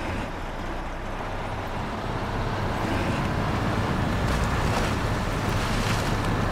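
Hellraiser semi-truck in the Snowrunner video game driving through deep water, a loud, steady rush of churning water over a low engine drone, constant and close with no talk.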